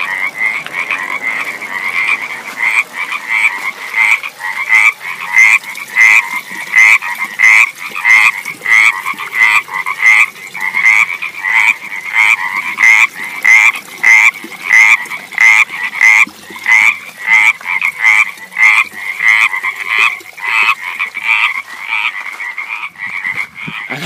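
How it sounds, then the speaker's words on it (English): Loud, rhythmic frog croaks repeat continuously in a steady chorus at a spring, close and dominant, with no voices present. "the frogs are so loud here"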